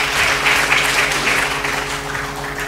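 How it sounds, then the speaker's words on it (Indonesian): At an academic Pancasila gathering, an audience claps for the paper presenters: a steady, moderately loud round of applause from a seated crowd, continuing throughout without speech. "tepuk tangan untuk pemakalah yang ada di belakang ini ya"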